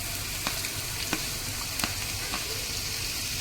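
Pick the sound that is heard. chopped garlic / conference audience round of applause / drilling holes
chopped garlic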